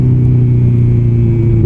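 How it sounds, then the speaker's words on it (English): Honda CB1000R motorcycle engine fitted with an Akrapovic full exhaust system, a loud steady rumbling drone with a rising pitch sweep at the end as revs climb, no talk. "if you can hear me over this wind and the exhaust."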